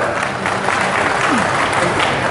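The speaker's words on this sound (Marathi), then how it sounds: "जोरदार टाळ्या" A crowd at a political gathering bursts into loud, sustained applause, a thick continuous roar of clapping close and full throughout.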